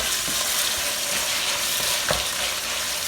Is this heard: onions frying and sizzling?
yes